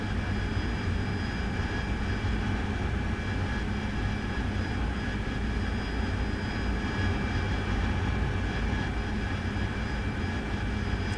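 The AV8B Harrier jet engine in a flight simulator game makes a steady, loud whine and roar that holds unchanged throughout.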